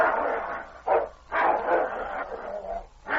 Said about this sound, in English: The dogs rolled in a snarling heap.